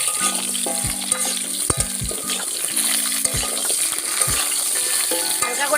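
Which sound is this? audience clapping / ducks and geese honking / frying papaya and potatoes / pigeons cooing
frying papaya and potatoes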